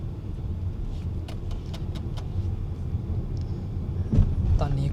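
Inside an XPENG X9 electric van taking a curve on the road, a steady low rumble of tyre and road noise fills the cabin, with a few light clicks and rattles, moderately loud and close.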